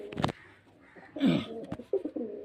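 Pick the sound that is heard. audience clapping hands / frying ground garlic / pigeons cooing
pigeons cooing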